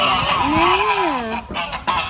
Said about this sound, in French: Viens, je te montre des oies.